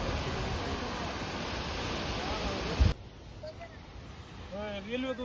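A waterfall gives a dense, loud roar for about three seconds, then cuts to a quieter scene where a voice speaks.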